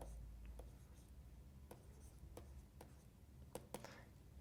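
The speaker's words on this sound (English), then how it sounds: "So let's quickly go and write them down." Pen or pencil scratches on paper while notes are written down during a geography map-work lesson, in short separate strokes and taps, close and quiet.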